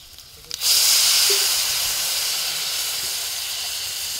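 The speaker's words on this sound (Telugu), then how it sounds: "వాటర్ పోసుకోవాలి కొన్ని." Water is poured into a hot cooking pan of curry, and after a brief click a loud, sustained hiss of sizzling steam rises and fades only slowly, with no talk.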